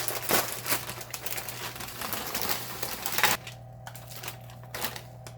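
Two one-pound plastic bags of mini pretzel twists handled in a home kitchen, crinkling and rustling loudly up close for about three seconds, then quieter occasional crackles.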